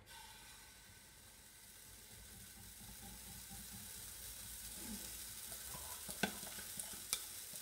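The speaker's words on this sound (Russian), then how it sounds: "Вот наливаю на сухую сковородку." A steady soft sizzle of pancake batter frying on a dry pan, hissing evenly throughout, with a couple of sharp little clicks toward the end.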